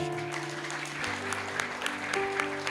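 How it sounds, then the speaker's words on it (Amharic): Congregation at a prophetic church service clapping together, a steady dense patter of applause filling the room with music-like tonal background underneath. "አጨብጭቡ እስቲ።"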